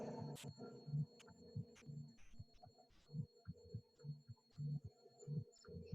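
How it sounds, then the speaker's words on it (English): A vacuum pump hums low and quiet while drawing air out of a sealed jar in a physics demonstration, its motor throbbing in a steady pulsing rhythm with faint clicks. "open this valve to allow our vacuum pump to suck out the air"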